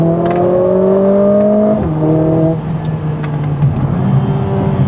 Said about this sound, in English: First of all, the acceleration is crazy.